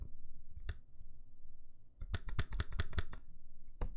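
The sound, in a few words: mechanical keyboard spacebar clicking, Iron165 with NovelKey Cream switches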